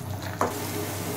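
Masala with salt being stirred and fried in a pan, a quiet, steady sizzle with one brief scrape of a spoon partway through.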